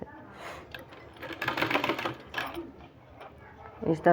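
A sewing machine stitches a fabric strip onto a sleeve in short, uneven bursts of whirring clatter, with a sharper rattle at the end.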